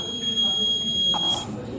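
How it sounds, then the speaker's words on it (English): A thin, steady electric buzzer tone from a farm fence alarm drones under a person talking, holding constant before cutting out near the end. "The buzzer would start to make sound and the bulb would light up"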